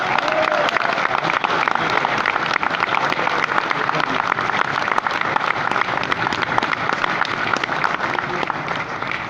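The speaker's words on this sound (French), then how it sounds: "je vous demande d'applaudir le grand vainqueur de cette première Star Wars, qui est Johan Housset" Applause and cheering from a crowd at an international coarse-fishing trade show in Amiens, greeting the competition winner; dense, loud clapping runs steadily throughout.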